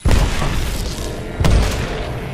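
A grenade goes off in a shooter video game, a loud low boom that rolls on, followed by a second heavy blast about a second later amid continuous battle rumble.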